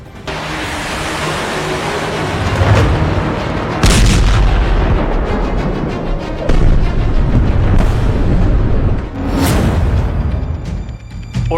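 Explosions from an attack on an Iranian warship at sea, a dense roar of blasts with several heavy booms standing out over continuous rumbling noise.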